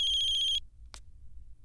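A telephone rings with a bright electronic warbling trill that cuts off abruptly after about half a second, followed by a single faint click and quiet room hiss.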